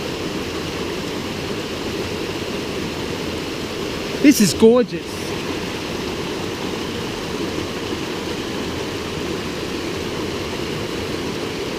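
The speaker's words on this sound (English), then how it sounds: "little area to swim in, right under a waterfall" Steady broadband rush of a waterfall pouring into a swimming watering hole on the Coomera Trail in Lamington National Park's rainforest, constant and close, briefly interrupted by a short spoken remark.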